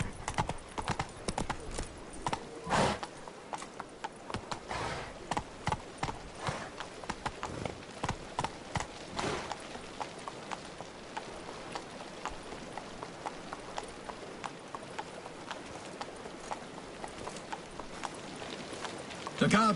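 Roach the horse gallops in The Witcher 3 video game, rapid hoofbeat clip-clops rolling steadily and close for the whole stretch, with speech heard over them.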